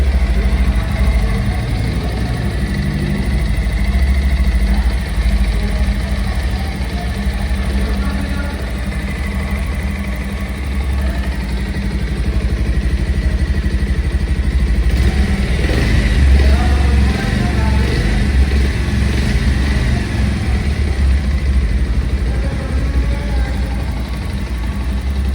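A 2024 Bajaj Pulsar 150 twin-disc ABS with a DTSi fuel-injected engine runs steadily through its barrel-type silencer, giving a loud, continuous low exhaust drone that holds an even idle for the whole stretch.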